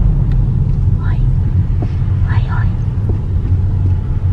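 A family car cruising on a road in Italy, its steady low engine and road rumble droning close and constant throughout, with faint voices murmuring quietly inside the cabin.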